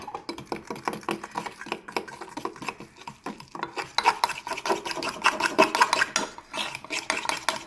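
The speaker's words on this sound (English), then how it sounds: "I'm going to mix that up and make it nice and smooth. And for that, I'm going to be using a fork." A fork whisks wheat paste (flour and water) smooth in a bowl, making steady, fast scraping and rasping strokes against the sides, close up and fairly quiet, with no talking.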